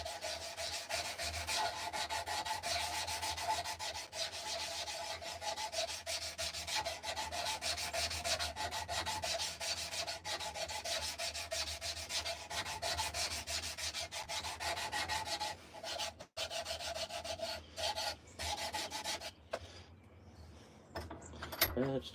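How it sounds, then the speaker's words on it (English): Steady, continuous rubbing and sanding of a carved wooden spoon, close and fairly loud, with brief pauses and a few clatters near the end. "Finish sanding this part right here, then we'll have to let it dry."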